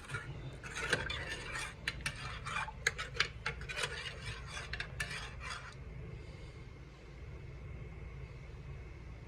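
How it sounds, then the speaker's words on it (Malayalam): A spoon scrapes and rubs through jaggery syrup in a pan with quick, irregular strokes for several seconds before fading to a soft, steady background hum. "ഇനി ഒന്ന് ഇളക്കി കൊടുക്കാം"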